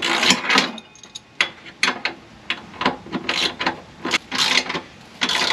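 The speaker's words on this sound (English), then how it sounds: "Now let's get this tightened up a little bit." A hand ratchet tightening 3/4-inch bolts while installing a B&W gooseneck hitch on a 2019 Ford F250, loud close clicking strokes in a steady rhythm with brief pauses between pulls.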